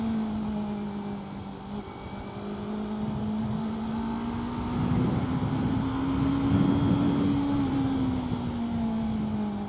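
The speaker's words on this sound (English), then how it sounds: "This engine is not too punchy, it's not too powerful, but somehow it feels fast even with the passenger." A Yamaha R3 motorcycle engine carries a rider and passenger at speed, a steady droning hum that rises slightly in pitch midway, mixed with wind rush.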